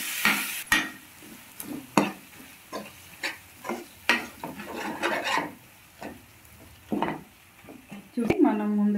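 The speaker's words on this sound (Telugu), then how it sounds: "అల్లం వెల్లుల్లి పేస్ట్ అండి కొంచెం చక్కగా కలిసిపోయేంత వరకు అయితే కలిపేసుకుందాము." Ginger garlic paste being stirred into a curry in a pan, giving repeated scraping and rubbing strokes with a faint sizzle beneath, ending in a brief clatter.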